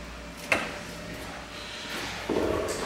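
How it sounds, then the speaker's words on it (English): A historic Otis traction elevator door opening in a nursing home: a sharp clack, then a rolling slide that grows louder, heard up close with no talking. "Open the door."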